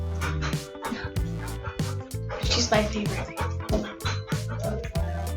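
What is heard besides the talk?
dog making funny noises, growling and whimpering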